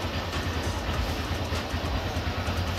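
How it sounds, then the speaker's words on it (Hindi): A Honda Livo motorcycle engine with stock exhaust runs steadily at idle with a low, continuous rumble, fairly close and unbroken throughout. "आप ये नॉर्मल बाइक की आवाज़ है"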